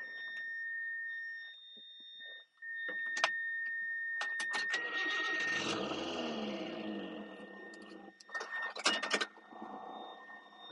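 A supercharged 1997 Subaru Sambar 4x4 kei truck with automatic transmission starts up close by: a brief cranking, then the small engine catches and settles into a steady idle, with a few clicks and jingles of keys, no talking.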